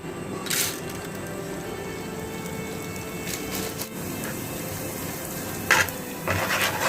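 Homemade chips fry in hot oil with a continuous close sizzle and crackle, broken by a few brief louder bursts of spattering and stirring.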